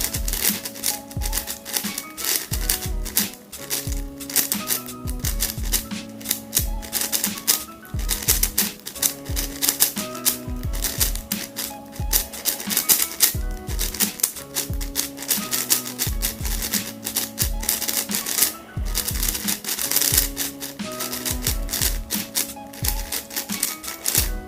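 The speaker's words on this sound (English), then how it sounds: "So let's do some turning." A budget YJ magnetic 5x5 speedcube turned rapidly by hand gives dense, continuous clicking and clacking, a close, busy rattle of many small plastic snaps that runs nonstop without talk.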